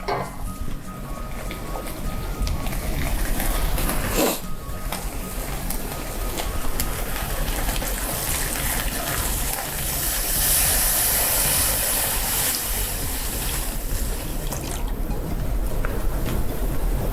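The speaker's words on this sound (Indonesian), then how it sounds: "kita bisa masukkan air. Airnya 2 liter." Two liters of water poured into a hot pot for tom yum, a loud continuous hissing rush of water hitting the heated pot, steady with brief dips, with no talk over it.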